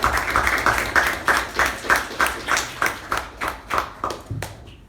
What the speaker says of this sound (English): A big round of applause for President Toastmaster Gaurav.